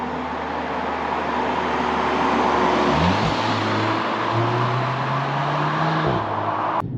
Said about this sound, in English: Always shocked at how fast this car is. I mean, it really accelerates.